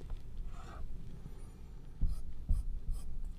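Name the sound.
drawing a diagram on a board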